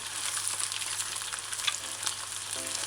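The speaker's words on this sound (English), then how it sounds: "so you just deep fry it" Sesame chicken pieces coated in a flour mixture deep frying in hot oil, a steady, close crackling sizzle that holds level throughout with no talking.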